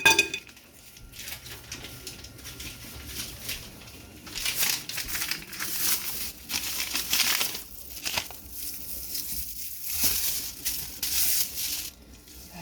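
Frozen hamburger meat is broken up in a casserole dish, with scraping, clinking utensil strokes and crunching of icy meat coming in irregular bursts, close and moderately loud.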